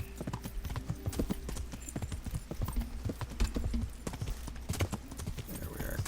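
Horse hooves clip-clopping at a steady gallop in the medieval role-playing game Kingdom Come: Deliverance, a continuous rapid rhythm of hoofbeats with a brief whinny-like sound and a voice speaking over it.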